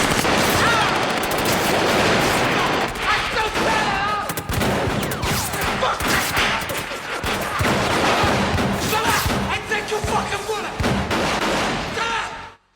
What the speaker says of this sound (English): Brian De Palma makes this gunfight a reflection of the rage that has just exploded from Montana.